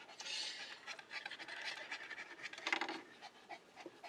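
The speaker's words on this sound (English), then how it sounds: "Sorry about the heavy breathing." Heavy breathing, likely from a dog, comes up close in quick rasping pants with an uneven rhythm and no talking.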